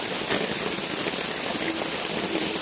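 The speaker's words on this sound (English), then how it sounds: "it's raining once again on us at Chadwick" Steady rain falls at an ATV park campsite, a dense, even hiss of drops on wet surfaces around tents, continuous and close with no talking.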